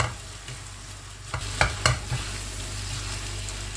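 Guanciale cooks over low heat in a pan with chestnut honey and balsamic vinegar, giving a soft, steady sizzle with a few sharp scrapes and taps of a stirring spoon near the middle, and no voices.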